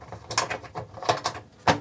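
Thumb screws unscrewed from the back panel of an Endorfy Arx 500 ARGB PC case, with a series of short clicking, ratcheting metal turns in an uneven rhythm, close and fairly loud.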